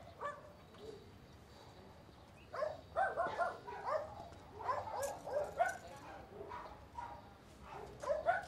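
A dog barks and yips in a short irregular series at moderate distance, over a steady outdoor background hum.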